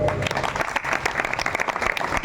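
A crowd at a village kirtan gathering claps in a dense, lively burst that stays close and loud for a couple of seconds, with faint voices mixed into the clapping.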